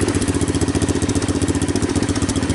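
A small engine on an ATV golf cart hybrid idles on choke, low on fuel, with a steady, rapid pulsing chug that runs evenly and fairly loud throughout, no voices.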